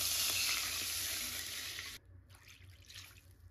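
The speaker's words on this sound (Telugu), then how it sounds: "ఫ్రూట్స్ అన్ని పక్కకు తీసుకున్నాక అదే నెయ్యిలో 2 గ్లాసులు వాటర్ వేసుకోండి." Two glasses of water poured into hot ghee in a pan, left from frying fruits for a festival sweet, give a loud steady hiss and sizzle for about two seconds that drops abruptly to a softer bubbling simmer.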